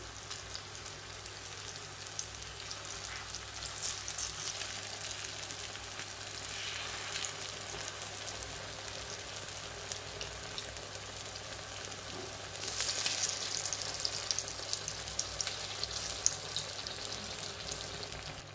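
Nei appam frying in ghee in the wells of an appam pan, a soft continuous crackling sizzle that grows slightly busier toward the end, heard close with no talking.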